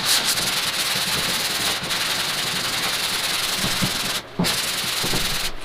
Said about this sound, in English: now what I'm going to do is take the sandpaper and just sand it